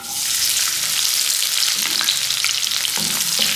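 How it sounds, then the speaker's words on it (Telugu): Chopped onions sizzle loudly in hot oil with cloves and cardamom for a home-style chilli paneer curry, a steady close frying hiss broken by a few soft stirring clicks. "ఈ ఆనియన్ని కూడా ఆయిల్లో వేసేద్దాం"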